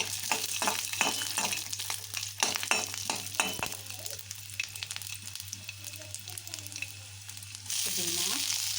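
Frying on a medium flame for chana dal chutney, a soft steady sizzle with quick scraping stirs and clicks early on, easing to a quieter hiss before swelling again near the end, no talk.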